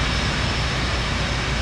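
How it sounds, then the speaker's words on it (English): An F/A-18 jet engine spools up in the DCS World flight simulator, a dense, steady roar with an even whine holding at constant loudness for under two seconds, no speech. "Got the engine stabilized, good jet."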